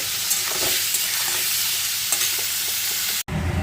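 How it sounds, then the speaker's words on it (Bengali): Shrimp fry in a pan over a high gas flame with a loud, close, continuous sizzle and crackle, broken near the end by a brief cut of silence before the frying resumes. "এবার আমি কিন্তু ভালো করে ভেজে নেব গ্যাসের ফ্লেমটা একটু বাড়িয়ে দিলাম হাই ফ্লেমে"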